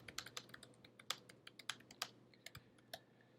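Quiet typing on a computer keyboard: a loose, irregular run of light, crisp keystrokes, close and soft, with no talk.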